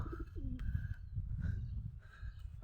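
Pigeons coo softly and close by, low throaty calls repeating under a faint background murmur, with a few brief chirps mixed in.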